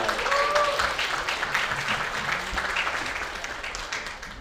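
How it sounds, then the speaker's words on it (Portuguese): Audience applause at the opening of a WordCamp Rio 2024 conference in Rio de Janeiro, a steady dense wash of clapping filling the room for several seconds without a break. "Uma salva de palmas!"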